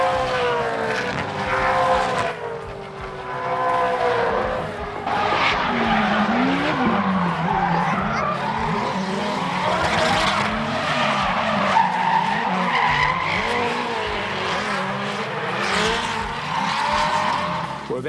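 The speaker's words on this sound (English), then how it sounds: "dozens of naturally aspirated V8 engines flying full noise down Symmons Raceway" Naturally aspirated V8 Supercars racing at Symmons Raceway, their engines roaring loudly and continuously as cars pass at full throttle, with rising and falling pitch sweeps and overlapping engine notes.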